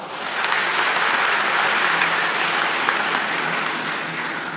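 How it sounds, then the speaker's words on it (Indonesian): A church congregation applauds together, a full, continuous wash of many hands clapping at steady loudness from start to finish, without anyone speaking over it. "Sekali lagi tepuk tangan untuk kita semua."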